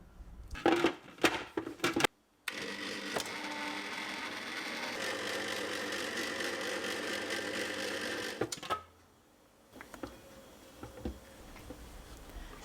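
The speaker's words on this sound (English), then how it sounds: "used my ice cream machine to churn" An ice cream machine churns Turkish ice cream with a steady mechanical whir for several seconds, framed by brief clattering knocks before and a quieter tail after, with no talking.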